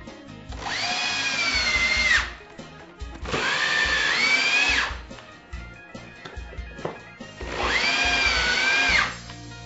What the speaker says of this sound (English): Your fuelless generator will also be able to power your drill.